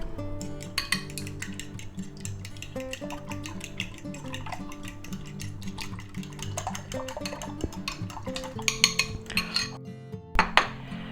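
A utensil clinks and scrapes against a bowl while garlic powder, onion powder and smoked paprika are stirred together, with steady rhythmic tapping under continuous background music.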